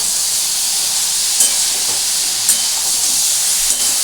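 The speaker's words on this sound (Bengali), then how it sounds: "এবার এটাকে আমি ভালোভাবে নাড়বো" Ridge gourd and prawn curry with coconut sizzling steadily in a pan as it gets stirred, a continuous bright hiss with a few soft scraping knocks, no talking.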